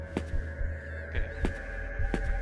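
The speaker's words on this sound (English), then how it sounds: "I hear heartbeats." A heartbeat sound effect in a horror video game: dull, low thumps repeat at an uneven pace over a steady background hum, with no voices.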